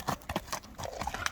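Horse hooves clip-clopping in quick uneven beats with a brief snort or whinny, close and fairly loud, on a mountain horse in Kyrgyzstan.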